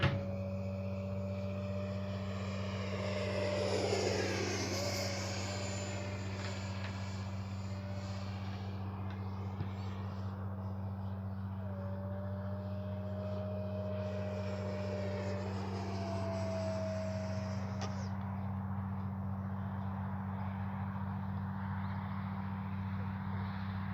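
A Freewing F9F-5 Panther RC jet flies overhead, its thin turbine whine rising and falling at a distance, heard over a steady low hum close to the recorder.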